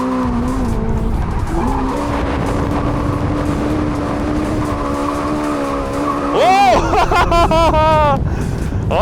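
The Hyundai RN24 electric car's drive drones steadily, then tires squeal loudly in a long handbrake skid on tarmac with wavering pitch as the car slides; no one talks over it.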